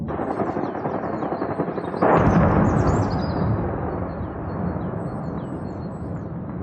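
Heavy bursts of explosion-like blasts and rapid gunfire from a drone attack near Moscow, with dense continuous rumble throughout and a louder surge partway through.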